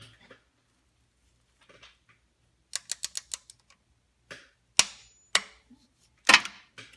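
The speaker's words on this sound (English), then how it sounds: "And now that's torqued down." A torque wrench on starter motor bolts of a 2002 Pontiac Grand Prix gives a quick run of sharp metallic ratcheting clicks, then several louder isolated snaps and clacks, close and crisp against near silence.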